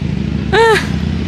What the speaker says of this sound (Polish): Czekaj, tutaj panowie Panowie na motorze.